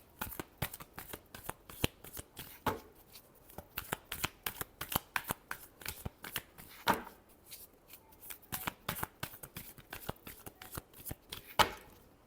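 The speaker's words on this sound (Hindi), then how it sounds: "last shuffle" Tarot cards are shuffled by hand, close up. Quick, crisp riffles and flicks repeat in a busy, irregular rhythm with a few louder slaps, and no voices throughout.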